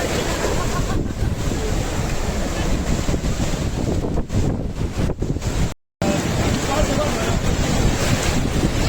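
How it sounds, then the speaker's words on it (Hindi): Strong wind buffets the microphone on an open sea beach, with waves surging beneath it. The roar is loud and constant and is cut by one brief dropout. "चलिए आज आपको दिखाते हैं एन्नूर बीच।"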